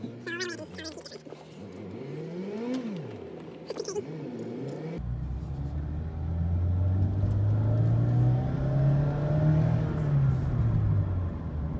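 A Mazda Miata ND engine with its sound generator deleted revs up and then holds a deep, loud droning tone, heard from outside the car after some higher-pitched sounds at the start.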